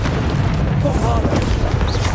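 In a wizard-duel video game, a booming explosion from the Bombarda spell rumbles loudly and fills the short stretch, mixed with game effects and a voice calling out spells.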